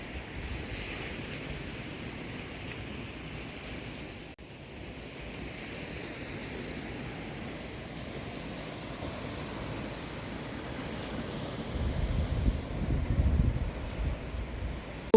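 Steady surf from ocean waves breaking on a beach, a continuous washing roar with wind buffeting the microphone, swelling louder toward the end, no voices.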